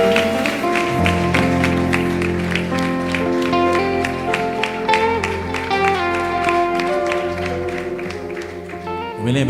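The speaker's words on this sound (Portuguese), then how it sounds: "Você pode aplaudir Jesus Cristo por isso?" A church congregation claps in a steady rhythm over sustained musical tones, the beats evenly spaced and fairly loud throughout.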